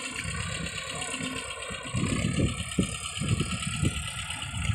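An Escort 335 tractor engine works under heavy load pulling about 50 quintals of rice straw, a steady mid-low rumble with rattling, loudening slightly partway through and continuing throughout without talk.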